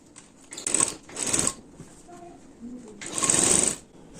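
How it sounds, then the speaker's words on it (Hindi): A sewing machine stitches the crotch seam of a salwar or palazzo in three short bursts of whirring, with quiet pauses between runs. "फिर यहाँ पे सिलाई चलानी है"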